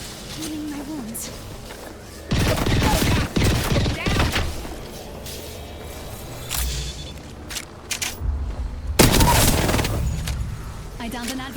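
Apex Legends gunfire in a match, with two loud, dense bursts of rapid shots and weaker scattered shots between them and near the end, over game noise and character voice lines.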